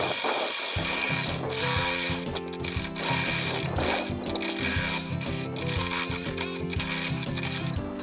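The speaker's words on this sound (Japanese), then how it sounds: "こういうステップドリルですね、初めて使うんですけど" A cheap electric drill with a step drill bit bores a hole through the metal body of an NV350 Caravan van, a steady loud whirring grind running continuously for several seconds with no talk.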